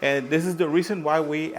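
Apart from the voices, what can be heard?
No everyday noises stand out.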